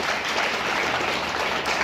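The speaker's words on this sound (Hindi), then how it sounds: "इसलिए मुकेश जी के लिए एक बार जोरदार ताली हो जाए।" An audience gives a burst of applause at a karate event, with many hands clapping together in a dense, steady wash that holds at an even level from start to finish.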